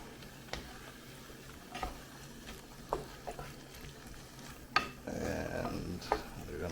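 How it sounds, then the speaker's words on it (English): A spoon stirs black beans in a pot for an oil-free vegan black bean soup, giving soft scraping and clinking taps at irregular intervals, quiet and close, with a brief wetter sloshing stretch near the end. "Give that a little stir."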